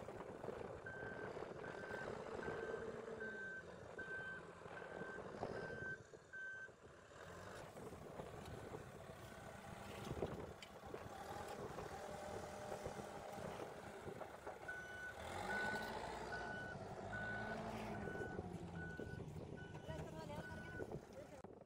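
Loader reversing on a street-light cable trench job while laying soft sand over underground cable, its reversing alarm beeping in two steady runs over engine rumble and distant talk.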